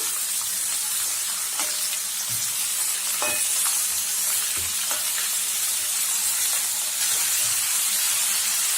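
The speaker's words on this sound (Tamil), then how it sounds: "இப்போ 2 டைம் கலக்கிக்கலாம்." Tomatoes and onions fry in a pan for paneer gravy, a loud steady steamy hiss and sizzle with a few spatula scrapes and knocks as the mixture is stirred, close up and without voices.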